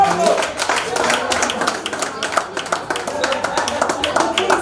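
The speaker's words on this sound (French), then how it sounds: "Alors on applaudit très fort pour eux" Dense, steady clapping from a crowd fills the whole stretch, a continuous patter with voices mixed in.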